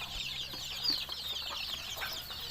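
Young chicks in a farm brooding pen keep up a dense, high, continuous peeping and chirping at moderate volume, with no talk over it.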